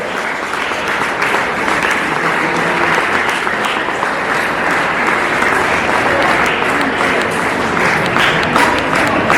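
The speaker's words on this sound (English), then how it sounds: "Let's give a thunderous applause for her dedication and success." A school audience claps loudly and steadily throughout a Republic Day prize ceremony, the dense applause holding an even level from start to finish with no pauses.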